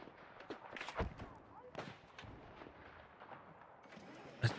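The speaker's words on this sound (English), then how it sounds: "this is the explosion. The effect of explosions." Explosions rumble and crack through a sniper-focused shooter video game, a series of distant muffled booms with a sharper blast near the end, while a person talks over them.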